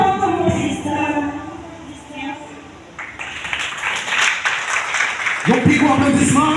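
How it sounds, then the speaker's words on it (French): An audience breaks into applause that builds from about halfway through into a dense, sustained clatter of clapping. Before that, voices and singing are heard, and speech continues over the clapping near the end. "Yon plus gros applaudissement"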